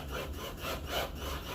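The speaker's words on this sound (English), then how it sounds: "And then just drill it in" A power drill drives a screw into wood while a turnbuckle is fastened during assembly of an Axis Release Trainer. The steady, close grinding whir pulses slightly as the screw bites, and no one speaks.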